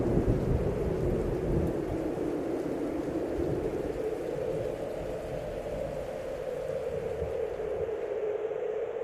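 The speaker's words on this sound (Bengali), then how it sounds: "ঝড় উঠেছে।" A summer Kalbaishakhi storm effect with heavy rain pouring steadily and low thunder rolling throughout, loud and continuous with no voices.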